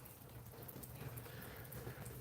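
Steady rain falls outdoors on a gloomy evening, a soft continuous wash of patter with a low hum underneath, faint and unbroken with no voices.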